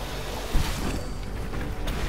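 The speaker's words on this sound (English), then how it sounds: "Spray the noxious slime." In the video game Lightyear Frontier, a steady hissing wash of sprayed noxious slime keeps up for about two seconds, a dense, airy rush with no talk over it.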